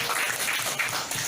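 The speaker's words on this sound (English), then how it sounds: "Another big round of applause for Ma'am" A room of participants claps steadily at a Guro21 SEAMEO class debate session, a dense, even patter of many hands sustained throughout without any voices.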